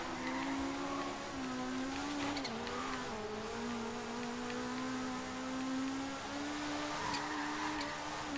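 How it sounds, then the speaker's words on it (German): Race car in the Forza racing video game with a steady, droning engine hum and a high turbo whine that rises and dips, continuous and even in loudness throughout, with no voices. "Turbo-Geräusch."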